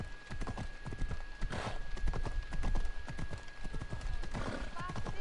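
Horse hooves clip-clopping steadily in Assassin's Creed Odyssey, a rapid rhythmic trot of close, clear hoofbeats continuing throughout while a person talks over it.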